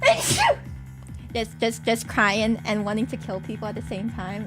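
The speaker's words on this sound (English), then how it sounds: "She sneezes." A woman gives one sharp sneeze at the very start, close and loud, and then talk follows.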